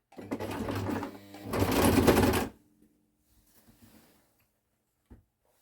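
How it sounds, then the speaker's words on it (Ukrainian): A home sewing machine stitching baby bedding runs in two close, steady mechanical bursts of about a second each, then stops, leaving near silence with a faint click at the end. "Шиємо постіль."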